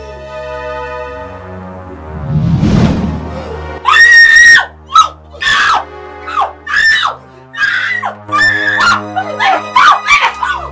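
A woman in a Nigerian comedy film screams and yells in loud, repeated bursts: one long cry, then a run of shorter shrieks, close and harsh.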